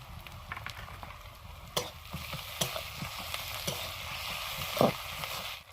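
Chopped ginger fries with salted onions in hot oil, a steady close sizzle broken by several sharp clicks and scrapes of stirring, with no talking.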